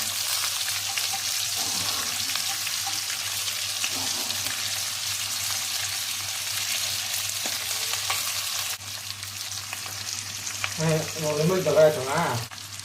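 Chicken frying in butter for chicken kabsa biryani, a steady low sizzle throughout with a constant hum beneath and some clattering and scraping near the end.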